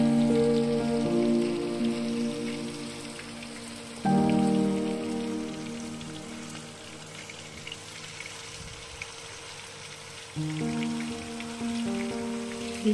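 Paneer frying and sizzling in a non-stick pan, a steady close crackling hiss that runs throughout with a few louder bursts, heard alone without any talking.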